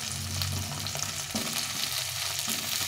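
Unpeeled potatoes frying in a pan with spices for a vegetable curry, a close, steady hissing sizzle with soft stirring sounds and no talking.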